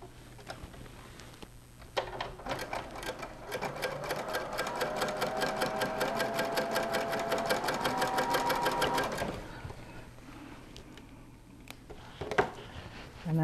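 A sewing machine stitches a seam to join fabric into a full circle, running in one steady rapid burst of even needle ticks for several seconds, with quiet handling before and after.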